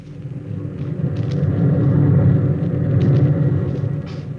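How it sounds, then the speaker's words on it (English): A deep, steady rocket exhaust roar on the launching field, created as a radio drama sound effect. It is low, rumbling and continuous, swelling slightly midway and holding strong throughout with no voices. "The rocket lay on the launching field, blowing out pink clouds of fire and heat"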